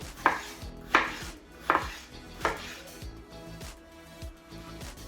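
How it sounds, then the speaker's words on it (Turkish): A Pirge Ecco chef's knife slices potatoes for fries on a cutting board, giving four or five crisp, evenly spaced chops with board knocks between them, close and clear, with no talk. "İsteyen ince keser, isteyen kendi keyfine göre kalın kesebilir."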